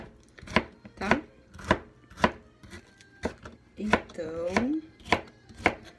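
Knife chopping vegetables for pickles on a board in a home kitchen, with steady close rhythmic thuds about every half second, and a brief spoken word partway through.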